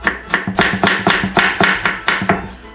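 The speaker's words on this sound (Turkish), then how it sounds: "Doğraması da kolay bunu bu şekilde." A knife chops frozen tomatoes on a board for a winter tomato sauce, landing about ten crisp, evenly spaced strikes in quick succession, close and clear, with no talk.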